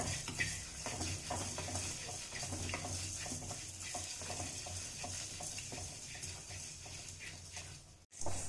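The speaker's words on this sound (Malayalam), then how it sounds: "ഈ മല്ലിയുടെ കൂടെ തന്നെ ഇട്ട് നമുക്കിത് വറുത്തെടുക്കാം" Dry coriander seeds and whole spices rattle and scrape in a hot pan, a continuous faint sizzling with scratchy stirring, briefly cutting out near the end.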